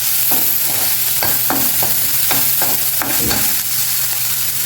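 Chopped onions and green chillies fry in a hot pan for bun dosa, a steady loud sizzle broken by repeated sharp scrapes and taps of a spatula stirring, with no talking.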